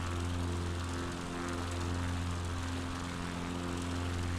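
Steady, droning propeller airplane engine in Microsoft Flight Simulator 2020, a constant loud hum with strong low harmonics and no speech, holding level throughout.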